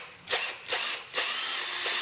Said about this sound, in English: So I'm going to drill right through